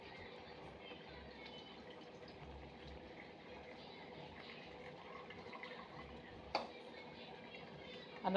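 Water left from boiling rice grains pours and splashes in a continuous liquid rush under a low rumbling background, ending with a couple of brief knocks.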